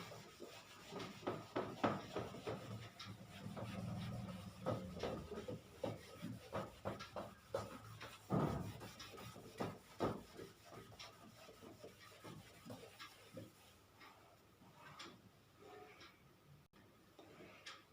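Writing rubbed off a classroom board during a math lesson, a steady, soft scratchy rubbing with repeated back-and-forth strokes and occasional taps, fairly quiet and close.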